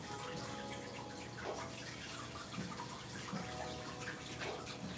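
A juicer rinsed under a running kitchen tap, a faint steady rush of water with soft splashing and gurgles as it hits the parts, continuous and close, no talk.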